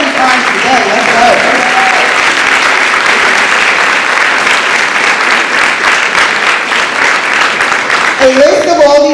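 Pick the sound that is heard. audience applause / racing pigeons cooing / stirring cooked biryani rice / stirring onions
audience applause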